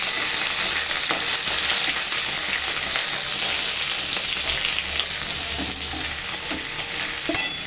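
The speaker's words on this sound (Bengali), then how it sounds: "এবার সজনে ডাঁটাটা কেটে রেখেছিলাম সেটা এর মধ্যে ঢেলে দিলাম" Cut drumstick (moringa) pieces frying in hot oil with bay leaf, a loud continuous sizzle with faint stirring clicks, close and steady throughout with no talking.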